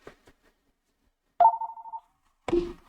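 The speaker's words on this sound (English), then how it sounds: "Yes, I will get a phone call." A telephone rings twice in near silence, each ring a clean, loud, steady tone about half a second long, spaced about a second apart.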